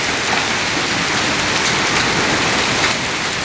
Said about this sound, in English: I've never seen this much rain.